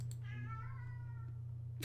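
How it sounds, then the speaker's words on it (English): Cat meowing once, a single drawn-out meow, faint in the background over a steady low hum. "I was referring to the cat in the background, not you."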